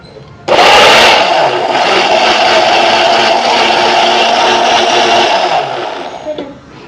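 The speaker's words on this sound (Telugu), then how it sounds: "మళ్ళీ ఒకసారి నేను మిక్సీ ఆన్ చేస్తాను." A kitchen mixer grinder switches on abruptly and blends ash gourd juice with added water, a loud steady motor whir that runs for several seconds, then winds down and stops.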